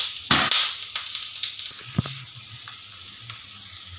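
Onion and capsicum sautéing in oil in a pan, opening with a loud burst of sizzle as the vegetables hit the oil, then quieter crackling and scraping stirs with a few knocks of a utensil.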